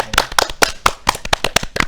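A brief burst of hand clapping in a podcast studio, a few people clapping close up with sharp, loud, fairly even claps at a quick rhythm for about two seconds.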